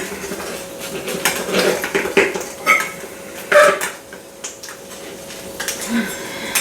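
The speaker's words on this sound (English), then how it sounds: "take my little pizza cutter here" A pizza cooked in a Black & Decker waffle iron is sliced with a small pizza cutter, giving irregular metallic clinks, scrapes and knocks against the plate in uneven bursts, close up and with no talking.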